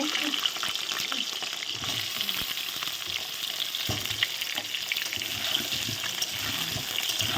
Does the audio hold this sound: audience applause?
no